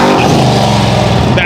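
A Subaru on white wheels revs loudly at a Woodward Dreamcruise car show, its engine roaring close by in a steady, sustained burst while people talk over it.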